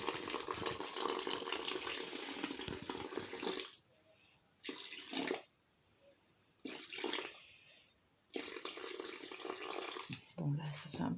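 Water pouring into a bowl while sourdough bread dough is prepared, a close, rushing splash in several bursts separated by quiet pauses, the longest at the start, with someone speaking during the gaps.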